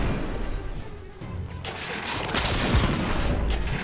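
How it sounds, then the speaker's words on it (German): Heavy artillery fire in the video game The Order: 1886, a loud sustained barrage of booms and crashing blasts that swells and stays dense throughout, with no talking. "Wir beobachten auf jeden Fall schweres Artilleriefeuer."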